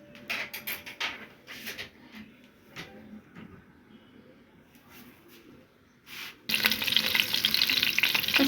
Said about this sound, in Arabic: السمنة بتاعتي اهي بقى خلاص ساحت